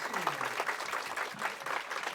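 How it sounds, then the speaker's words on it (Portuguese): Audience applause for a speaker at a developer conference talk, a dense steady patter of many hands filling the room, with a voice talking over it. "Vamos dar aí uma salva de palmas para o nosso palestrante."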